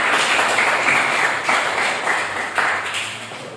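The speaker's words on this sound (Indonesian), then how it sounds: "tepuk tangan untuk kelompoknya masing-masing" Short burst of classroom applause as students clap for their groups after a science measurement lesson, a steady mass of clapping at moderate loudness with no talk over it.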